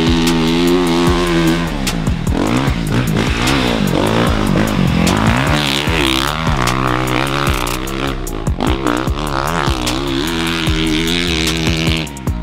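A 2020 Honda CRF450 motocross bike rides nearby on a track, its engine loud and continuous, with rapid rev swells and drops as the rider works the throttle through gear changes, with no talking over it.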